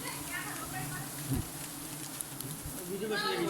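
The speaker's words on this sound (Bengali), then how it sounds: "মৌমাছিগুলো ছিটকে মুখের মধ্যে পড়তেছে" Honey bees swarm around a person's face during honey collection after smoke has been used on the hive. A steady, thin buzzing continues throughout, mixed with nearby movement and a few low thumps.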